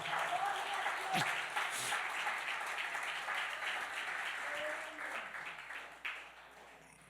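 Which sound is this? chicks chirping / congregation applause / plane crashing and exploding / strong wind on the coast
congregation applause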